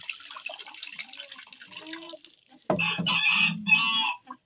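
A rooster crows loudly and close by in a couple of bursts on a village morning, following softer clucking and faint background sounds.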